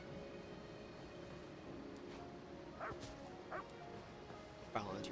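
A dog in the video game Elder Scrolls Online barks several times in short yips over a quiet ambient game background.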